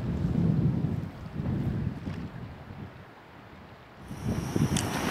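Strong wind buffets the microphone on a cool sunny morning by a rocky seashore on a kayak trip, a loud, steady low rumble that rises and eases in gusts, with a faint thin whistle near the end.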